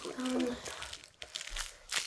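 Adhesive tape being pulled up and crumpled during a bedroom cleanup, giving irregular crinkling and tearing rustles close by, with a voice speaking partway through.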